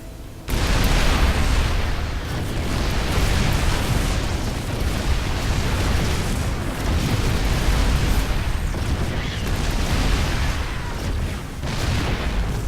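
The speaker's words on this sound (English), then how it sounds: "let's get started here with 10 Siege Tanks versus 5 Immortals" StarCraft II battle between ten Siege Tanks and five Immortals, a dense and continuous roar of cannon blasts and explosions for about twelve seconds, loud and unbroken, with no voices.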